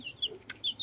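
A hen and chicks in a home yard, with a few short, high chirps and soft clucks in quick succession, close and fairly faint, without speech.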